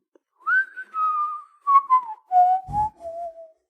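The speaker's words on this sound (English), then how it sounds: "But alongside, you can also hear whistling" A single clear whistled tune, a slow descending melody of held notes with short gaps, with a faint rustle near the end.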